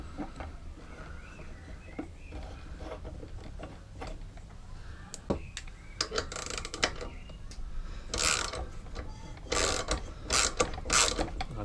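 A lawnmower's top belt slips off its pulley, heard as ticking, ratchet-like mechanical clatter and rubbing over steady low rumble, growing busier with sharp bursts in the second half.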